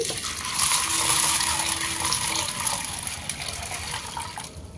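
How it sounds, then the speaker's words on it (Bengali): Water gushes steadily from a tap into a bowl of 500 grams of chana dal set to soak, a continuous close splashing fill lasting several seconds with no talk. "এর মধ্যে পরিমাণ মতো জল দিয়ে দিচ্ছি"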